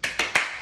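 Three quick, crisp hand claps spaced evenly about a fifth of a second apart, close and clear with no talking, marking a skip-counting rhythm.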